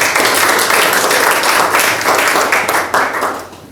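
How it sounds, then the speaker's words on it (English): A museum lecture audience bursts into loud, continuous applause with dense overlapping claps, holding steady before fading slightly toward the end. "Let's have a round of applause for"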